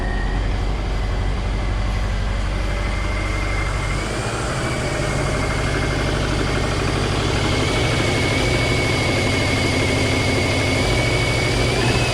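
A 2003 Subaru Outback engine idles steadily at close range after a power steering pump replacement, a continuous low rumble with a faint whine running through it and a slight shift in tone partway through.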